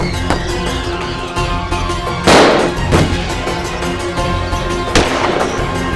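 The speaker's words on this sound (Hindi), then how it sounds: "गोली चल रही है।" Several sharp, loud bangs of gunfire ring out at irregular intervals in Chambal, India, echoing over a steady background, fired at some distance.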